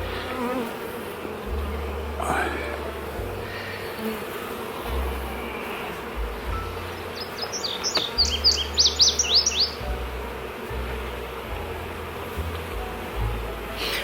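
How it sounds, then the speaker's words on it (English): Honey bees in a five-frame nuc hum in a steady, close drone, with short chirping bursts and rising buzz near the middle; no one talks. "There's a lot of bees."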